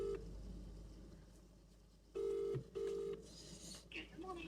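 A telephone call to estate agents is placed, with a couple of loud, steady dialing or line tones and softer beeps after them, heard close over a faint hum.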